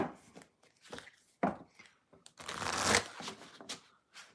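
Tarot cards are shuffled by hand in a series of quick riffles and papery flutters, with louder bursts near the middle, heard close and alone.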